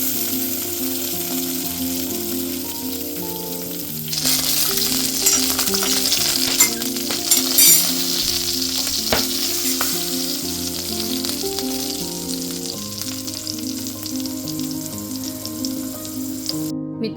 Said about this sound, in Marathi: कारण मिरच्या भाजताना त्या थोड्याशा उडल्या जातात